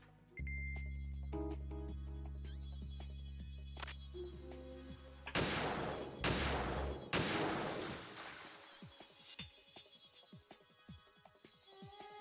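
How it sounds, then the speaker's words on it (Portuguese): Bursts of gunfire in Metal Gear Solid 2: Substance, several loud rattling volleys in quick succession over a low game drone that drops out, followed by scattered quieter clicks and echoes, no voices. "eu atirei nos caras na outra estrutura"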